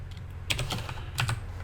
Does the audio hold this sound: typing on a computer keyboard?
yes